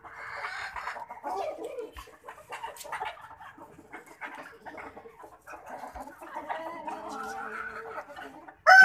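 Hens kept on a house rooftop farm cluck and squawk in a scattered, ongoing chorus at moderate distance, with faint voices in the background and a sudden louder noise at the very end.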